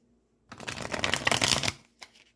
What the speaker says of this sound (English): Let us clarify with a shuffle tarot.